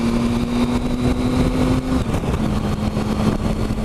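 A Triumph Tiger 1050 motorcycle engine drones steadily while riding in second gear, with a constant hum and loud wind rush throughout and no speech.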